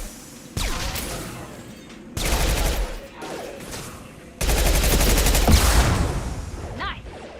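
Gunfire in the video game Mass Effect 2: several loud bursts of rapid automatic shots separated by short lulls, the last and longest burst ringing with crashes and a brief rising whine near the end.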